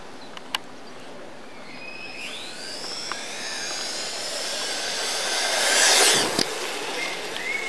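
A 1/16-scale Exceed RC Magnet electric off-road truck runs its motor at full throttle, giving a rising high-pitched electric whine that sweeps upward, swells loudest near the end, then cuts off, with no talking over it.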